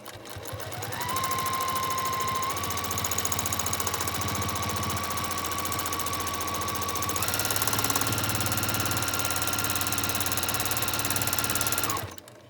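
A sewing machine free-motion quilting wavy lines along a quilt border, running steadily at a fast, even stitching rhythm for about eleven seconds, with a whining motor tone that rises partway through and then stops.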